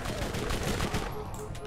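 Automatic turret fire in the Borderlands video game, a dense continuous burst of rapid gunshots throughout, loud and steady with faint game sounds layered in.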